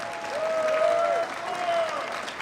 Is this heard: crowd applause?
yes